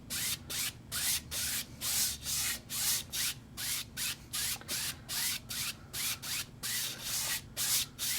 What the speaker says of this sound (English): I'm just kind of rubbing part of this out